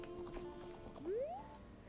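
Epona, the horse in The Legend of Zelda: Ocarina of Time, gives a short rising whinny in the game over soft background music, with light hoof-like taps before it.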